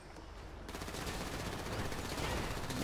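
Rapid gunfire in GTA 5 rattles in a continuous dense burst, loud and close, building slightly in intensity over a few seconds.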